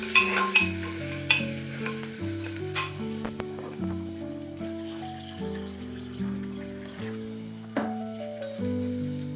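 Turmeric tempering sizzles in a pan while a spoon scrapes and clinks against the metal in irregular strokes. A steady crackle continues underneath, with some tonal pan ringing, close and clear, and no one speaks.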